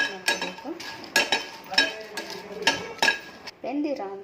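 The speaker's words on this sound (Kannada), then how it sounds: "ಒಂದು ಫ್ರೈ ಪ್ಯಾನಲ್ಲಿ ನಾನು 4 ಬ್ಯಾಡಗಿ ಮೆಣಸಿನ್ಕಾಯಿನ ಹಾಕಿ ಡ್ರೈ ರೋಸ್ಟ್ ಮಾಡ್ಕೊಳ್ಳೋಣ" Byadgi dried red chillies being dry roasted in a fry pan, with repeated close metallic scrapes and clinks of a utensil against the pan in an uneven rhythm.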